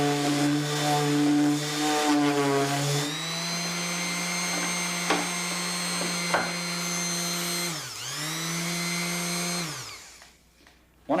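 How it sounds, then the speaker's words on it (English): A power sander works a wooden door panel, a steady motor whine with a strong hum, dipping in pitch under load around the panel edge, then winding down and stopping near the end. "I can sand and then turn the panel like so"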